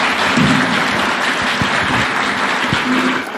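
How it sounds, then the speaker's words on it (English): An audience at the State House launch of a national medium-term plan in Nairobi keeps up steady, dense applause that holds even and then eases off at the end. "One more round of applause, please."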